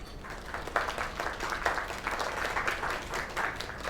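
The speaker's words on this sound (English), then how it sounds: "Another round of applause." A studio audience breaks into steady, sustained applause after a singing performance, dense clapping close and even throughout with no clear voices above it.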